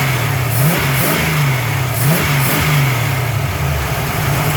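A carbureted car engine with a Holley-style carburetor idles steadily and loudly up close, its low rumble pulsing with a slightly uneven, lopey rhythm.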